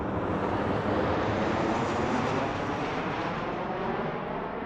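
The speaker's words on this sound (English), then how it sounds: "planes lined up 50 deep trying to take off" Airplanes lined up on the taxiway waiting to take off at Denver International Airport, a continuous broad jet-engine roar that holds steady and loud throughout, with no talk.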